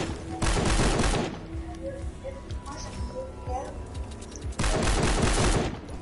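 Rapid bursts of automatic gunfire from a video game, two loud volleys at the start and end with quieter scattered shots between, heard alongside talk.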